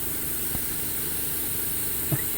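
Gas hisses steadily while brazed refrigerant lines on a Bryant 214DNA heat pump install are pressurized, a constant close hiss with a couple of faint knocks.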